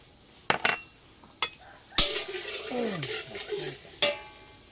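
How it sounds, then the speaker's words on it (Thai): Spice paste is stir-fried in a pan for a dressed fried-egg dish: sharp metallic spatula clanks and scrapes against the pan, alternating with a bubbling sizzle, all close and clear with no talk. "เรามาผัดเครื่องผัด ผัดเครื่องก่อนนะ"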